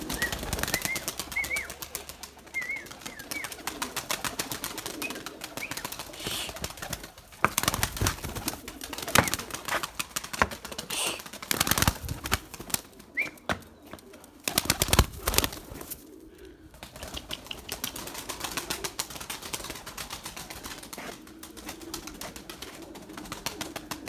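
Pure Erzurum white pigeons flying and cooing at their loft: soft coos and scattered wingbeat flutters amid bursts of close rustling and handling noise, with no talk.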